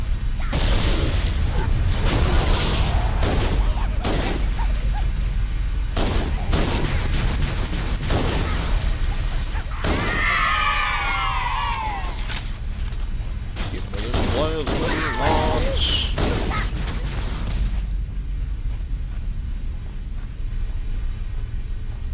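Dense, overlapping weapon fire and explosions from Halo: Combat Evolved rattle on loudly for over fifteen seconds, with a squealing energy effect midway, before easing into a quieter rumble.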